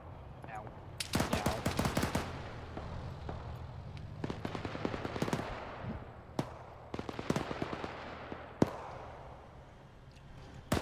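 Tank cannon and machine-gun fire in the Arma 3 video game, a Cold War-era battle: a volley of sharp, crackling shots with scattered single bangs and rattling bursts, spread over continuous background rumble.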